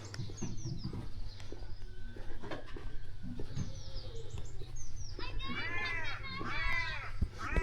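Children's voices calling and playing outdoors in the village of Badger, Shropshire, with birds chirping nearby and a low steady hum underneath.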